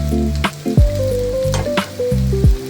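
Boras, battered fritters, frying in hot oil, with a steady loud sizzle and bursts of crackle as pieces are turned, with background music tones running throughout.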